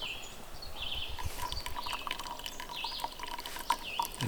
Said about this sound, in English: So slow drip there.